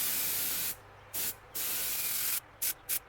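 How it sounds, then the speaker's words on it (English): Spray nozzle turned sideways, coating rat rod link bars with bursts of hissing aerosol: long steady sprays broken by pauses, then several short quick blasts, close and loud with no talking. "since I'm spraying horizontally."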